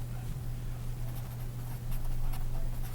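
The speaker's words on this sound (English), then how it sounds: "I'll just write this here" A marker squeaks and scratches across a board in short strokes, faint and close, over a steady low electrical hum.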